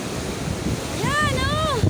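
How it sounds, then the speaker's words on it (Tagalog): Large ocean waves roll and crash in rough, rainy weather near a ship at sea, a steady wash of surf and buffeting wind close to the microphone, with excited voices and a rising wail over it. "Ang laki ng alon!"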